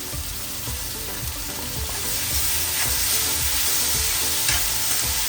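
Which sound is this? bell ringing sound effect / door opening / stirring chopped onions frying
stirring chopped onions frying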